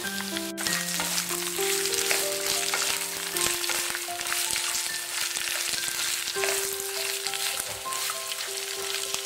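Bilimbi and small chillies sauté in a pan for pickle, giving a dense, even sizzle throughout with faint stirring scrapes and a low tonal hum underneath.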